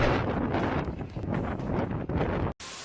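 A strong wind gust buffets an outdoor scene, roaring broadband and steady for over two seconds with rumbling mic buffeting, then cutting off briefly before resuming.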